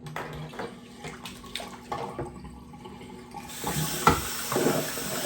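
Water runs from a tap while rinsing off during a straight-razor kamisori shave, a soft continuous splash with a few small knocks, growing louder toward the end.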